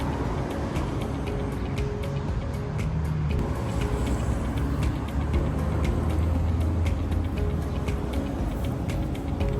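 Road traffic rumbles steadily past a roadside bus stop, with car and bus engines droning at a constant moderate level and a faint hiss, no voices.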